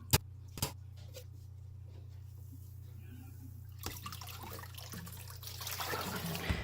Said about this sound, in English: You could actually sprout in that container that I'm rinsing them with.